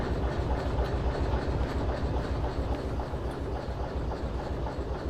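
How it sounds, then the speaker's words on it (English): Video-game freight train in Derail Valley rolling with its brakes on hard, a dense, steady rumble of wheels and rail noise with a faint rhythmic clatter, loud and continuous throughout with no talk. "Ooh, the brakes are on hard."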